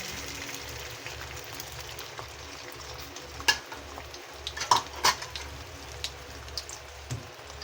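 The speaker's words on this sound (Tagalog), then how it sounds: "isusunod ko namang iluluto yung scrambled egg. Ilagay na natin." Scrambled egg hits a hot pan and cooks in a soft, steady sizzle, punctuated by a few sharp clinks and scrapes of a utensil against the pan, with no talking.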